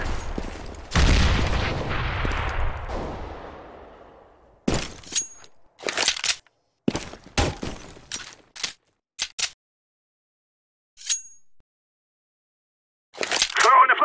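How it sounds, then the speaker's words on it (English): A grenade is thrown in a Counter-Strike match, followed by a loud sustained blast and later a series of sharp, separated gunshots with silent gaps between, and a voice talking at times. "I'm throwing a grenade."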